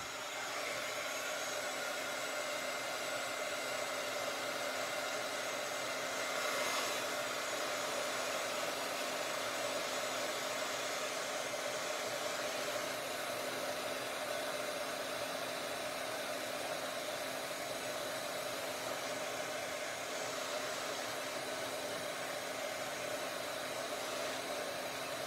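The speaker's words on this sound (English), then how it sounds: "grab my heat tool again" A heat tool blows hot air in a steady, continuous whoosh with a faint hum, moderately near and unchanging throughout, with no talking.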